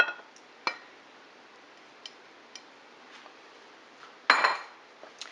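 Four eggs cracked one after another into a bowl of cake mix for a Betty Crocker almond pound cake, giving faint, sparse clinks and taps of shell on bowl with a brief, louder cluster of clatter near the end.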